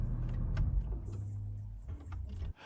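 A Jaguar F-Type SVR's engine idles with a low rumble and is switched off, the rumble dropping away abruptly near the end, with light clicks and jingles around it.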